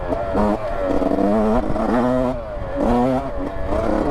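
A Yamaha YZ 125 two-stroke dirt bike rides through a forest, its engine revving up and down in repeated rising whines with brief throttle drops between them, heard close and loud.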